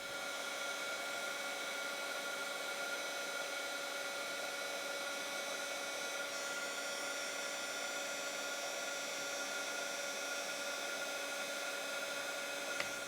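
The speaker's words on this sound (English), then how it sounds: "with my heat tool, I can heat this up and melt the powder" A heat embossing tool melts embossing powder on a handmade card, giving a steady, even whirring blow that holds unchanged from start to finish.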